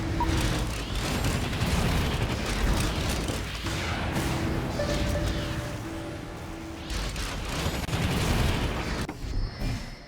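A sustained, rumbling explosion roars through the destruction of the beacon in Civilization: Beyond Earth, dense and loud for several seconds with layered bursts and mechanical tones before tapering off.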